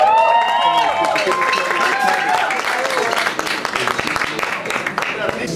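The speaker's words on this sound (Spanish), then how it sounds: "También recibamos con un fuerte aplauso a Juan Sebastián y Almarao Martínez." An audience at a talk on cumbia music and dance applauds the speakers, dense clapping filling the moment under overlapping chatter and voices, tapering slightly toward the end.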